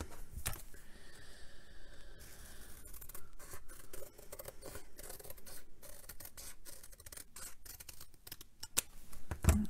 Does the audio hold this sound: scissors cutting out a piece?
yes